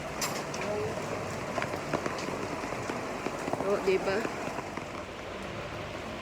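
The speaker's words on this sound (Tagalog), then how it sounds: "Sobrang malakas talaga yung ulan." Steady heavy rain pours down on a street in Sham Shui Po, Hong Kong, a dense wash of noise with a person talking briefly over it.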